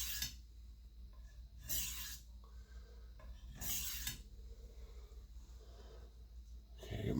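A chef's knife is drawn in full-length strokes along a sharpening stone, giving three or four distinct rasping swipes spaced a couple of seconds apart, close and clear over quiet room tone.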